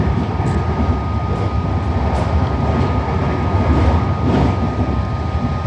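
A Melbourne HCMT suburban train heading out from the tracks near a siding, a loud, steady broadband rumble and roar of wheels and motors close by, with faint squeals and no talk.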